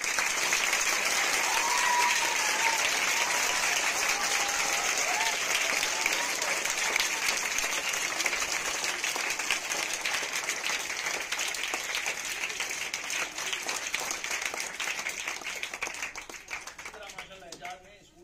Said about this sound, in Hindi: जोरदार तालियां एजाज के लिए